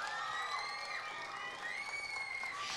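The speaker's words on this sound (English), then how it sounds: "You want to clap for that? Go for it." A talent show audience at a Fiesta Days event claps and cheers in a steady, moderately distant wash of applause, with faint whoops mixed in.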